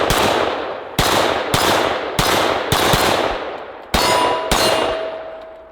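Steyr AUG rifle firing at steel targets outdoors, seven sharp shots spaced roughly half a second to a second apart, each with a bright metallic ring from the struck steel that decays between shots.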